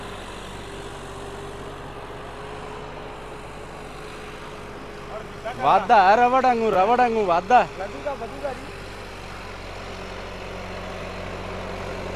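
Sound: John Deere tractor engine driving in a field

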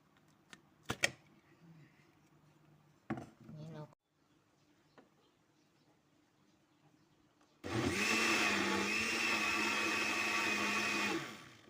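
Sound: blender pureeing mango flesh

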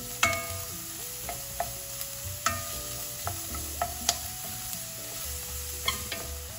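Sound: chopped onion sauteing in coconut oil in hot skillet

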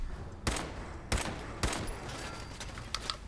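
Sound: gunfire in the video game Fallout 4

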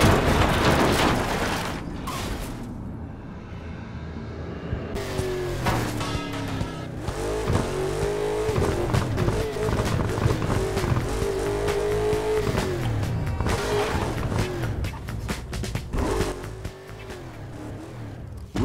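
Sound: car engine and tire squeal in Burnout Paradise video game

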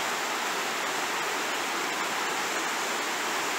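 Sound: Merrimack river flowing nearby

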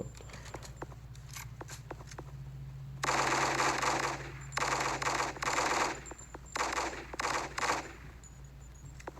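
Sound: gunfire in Special Soldier video game

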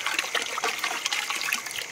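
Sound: rose water being poured into Malabar chicken biryani

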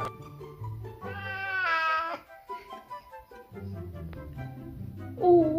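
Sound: oriental cat meowing

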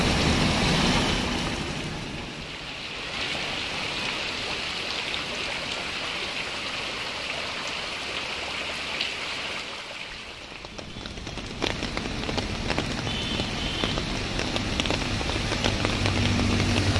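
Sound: heavy rain falling in the city

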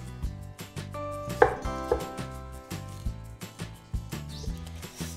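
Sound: knife cutting a chile pepper open

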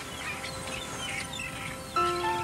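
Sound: migratory birds calling

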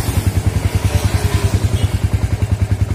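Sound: Yamaha Vixion Old motorcycle engine started, idling at low RPM

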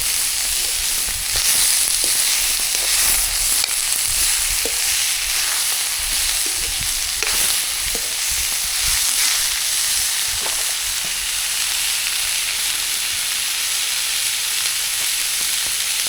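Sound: radish leaves frying in a pan

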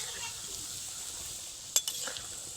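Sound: flipping pakoras frying in pan

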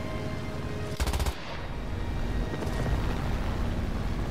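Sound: gunfire in a video game

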